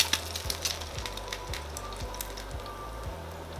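An egg fries in hot, bubbling oil while being basted, a steady close crackling sizzle with scattered pops and spits throughout and no talking.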